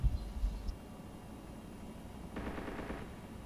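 Gunfire into an enemy base in ArmA 2, a few quick heavy shots up front, then a quieter spell before a short rattling burst of distant automatic fire.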